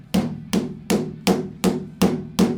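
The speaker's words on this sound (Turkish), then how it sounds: "çivi olmadığı için çakamıyorum ama şöyle gayet sert bir şekilde vurdum" A Honor Magic 7 Lite phone is struck hard with a hammer in a durability test, giving seven loud, evenly spaced impacts about every third of a second, each a sharp crack with a short ringing decay.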